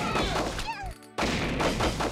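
Gunfire in the action game The Maid and Machine Gun, a rapid dense burst of shots that cuts out briefly and then resumes, loud and close, with a short whistling sweep in the gap.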